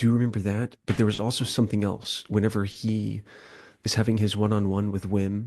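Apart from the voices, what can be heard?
No everyday noises stand out.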